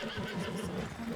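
A horse neighs close by in a drawn-out, wavering whinny, loud and clear from start to finish with no voices over it.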